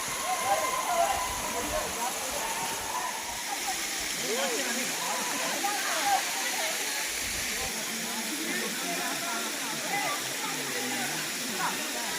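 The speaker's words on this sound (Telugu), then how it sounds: "ఇది మంజులూరు వాటర్ ఫాల్స్ అండి" Manjuluru waterfall in Eluru district, reached by trekking through forest, pours with a steady, broadband rushing roar that holds even and continuous while people talk over it.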